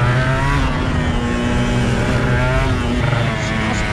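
Honda NSR250R MC28 two-stroke motorcycle running at full throttle on a circuit, a loud, steady high-pitched engine drone held close throughout with only slight pitch shifts.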